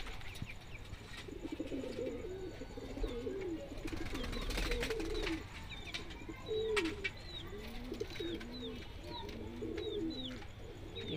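Sendha pigeons in a Delhi pigeon-selling setting coo steadily in low throaty bursts, with many more coos and high chirps from other birds filling the background throughout.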